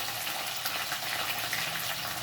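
Mint and curry leaves sizzle and crackle in hot oil in a frying pan while a gongura chicken dish is being cooked, a steady, dense frying hiss with no talk.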